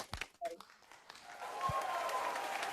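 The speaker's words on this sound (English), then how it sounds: "Let's applaud for Daisy." Small studio audience applauding a podcast guest, a light steady patter of clapping that builds and holds after a few brief voices.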